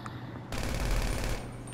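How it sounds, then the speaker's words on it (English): Sustained automatic gunfire in Grand Theft Auto 5 at a carnival setting, a sudden dense rattling burst that starts abruptly and runs continuously for about a second before cutting off. "I didn't know how to shoot these guns at first."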